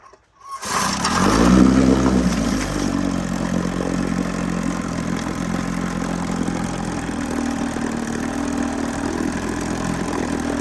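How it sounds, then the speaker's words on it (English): A small two-stroke vintage Johnson outboard motor starts up in a bucket of water and runs steadily with a loud, buzzing idle, churning water nearby throughout. "I put the motor in a bucket and we'll see how it runs."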